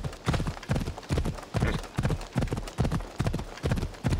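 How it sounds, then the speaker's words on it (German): Dark war horse galloping in the video game Assassin's Creed Odyssey, its hooves clip-clopping in a fast, even rhythm of loud, close beats with no talk over them. "Ich habe übrigens das dunkle Pferd."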